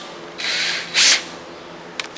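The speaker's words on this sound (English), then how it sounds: "run a drill through there to get the bolt to go back in" An electric drill bores a single small hole through aluminum while repairing a crushed push broom: two short whirring bursts, the second louder and harsher, followed by a couple of faint clicks.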